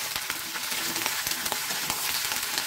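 Cut potato frying in hot oil with dried red chilli, black cumin and garlic for a winter potato and flat-bean curry, a steady close sizzle with soft stirring clicks throughout.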